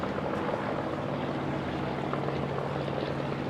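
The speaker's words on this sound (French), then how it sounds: "L'atterrissage du H-75." A Curtiss H-75 propeller fighter lands at the Paris Air Show at Le Bourget, its engine a loud, steady droning roar with a dense whirring texture that holds throughout without a break.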